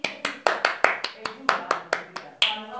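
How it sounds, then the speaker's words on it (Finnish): A small handful of people clap for an orange, about a dozen sharp, distinct claps in an uneven rhythm, close and fairly loud, with a faint voice underneath. "aplodit"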